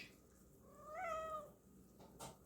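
A cat in a home kitchen gives a single drawn-out meow, faint and close, followed by a soft rustle.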